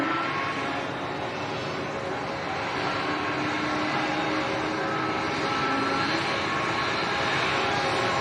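A KLM airliner taxis at Leeds Bradford Airport, its jet engines giving a steady, loud, broadband roar that holds evenly throughout with no pauses.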